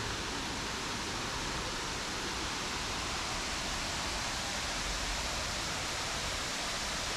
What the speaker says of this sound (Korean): 시원한 물줄기와 폭포 소리는 자연스러운 분위기를